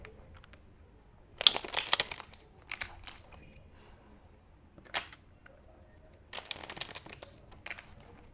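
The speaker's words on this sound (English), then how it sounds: "So let me just shuffle this deck." A tarot card deck is shuffled by hand in a quiet room, with several short bursts of riffling and crinkling card noise separated by near-silent pauses.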